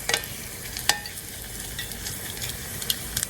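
Garlic frying in hot oil, a steady crackling sizzle with a few sharper pops and utensil scrapes scattered through, moderately close and with no one talking.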